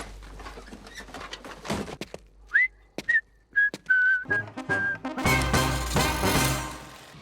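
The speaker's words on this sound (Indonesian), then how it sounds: "Setelah merasa aman dari kejaran para ksatria, dia pun bersiul sambil berjalan santai" A person whistles a casual tune while walking, with short bright phrases and sliding notes over footsteps and light rustling, before a dangdut music intro swells in at the end.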